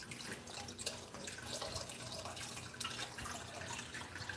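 Steady trickle and drip of water running through an aquarium sump's emergency overflow, a quiet, continuous babbling of small droplets up close, with nobody speaking.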